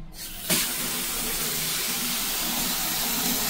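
A tap is opened at about half a second and water rushes out in a steady, broadband hiss, running continuously and fairly loud through a flow-sensor setup, with no talk over it.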